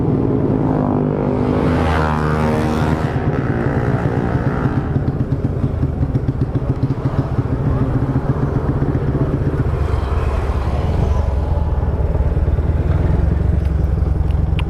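A motorcycle engine with trouble on a cold night ride, running loud and close with a rough, uneven drone and bursts of revving, continuous with no talk.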